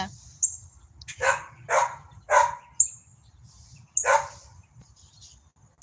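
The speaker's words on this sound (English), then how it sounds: "There's nothing I can do about the dogs barking." Several dogs bark in bursts of four or five sharp woofs with gaps between them, somewhat distant, over faint background hum and occasional high bird chirps.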